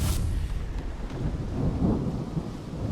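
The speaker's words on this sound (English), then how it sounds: "Every time I do that, there seems to be a clap of lightning." Thunder rumbles low and heavy in the puzzle video game The Room Three, a rolling clap over steady rain-like noise that lasts the whole short moment without talk.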